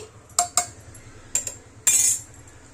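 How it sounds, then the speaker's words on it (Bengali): Vegetables stirred in a pot while cooking boiled chicken, giving a few sharp, close metallic clinks and scrapes of a utensil against the pot, spaced irregularly with a longer scrape near the end. "সবজিগুলো দিয়েছি তো এবার একটু নেড়ে নিই এবার একটু নেড়ে নিচ্ছি"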